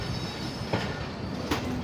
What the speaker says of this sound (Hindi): Eighteen down Millat express departure from Hyderabad junction railway station.